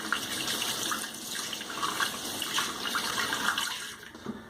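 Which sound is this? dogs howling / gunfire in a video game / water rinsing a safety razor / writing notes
water rinsing a safety razor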